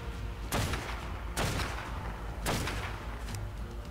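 Three sharp, loud rifle shots from a video game, ARK Survival Evolved, ring out about a second apart, each with a short decaying tail over a quiet background.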